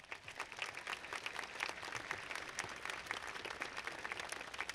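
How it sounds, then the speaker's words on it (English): Sustained applause from an audience at a high school commencement ceremony, dense steady clapping from a large crowd throughout with no speech over it. "Let's give them a round of applause."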